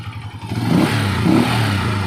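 Repaired motorcycle engine revved with the throttle, its knocking tick now gone; a close, steady idle rises into two short revving swells with a faint mechanical clatter.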